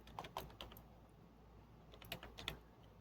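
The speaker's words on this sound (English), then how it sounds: "I'm typing it in." Typing on a computer keyboard, with scattered soft key clicks in two short bursts separated by a quiet gap, close and faint, with no talk.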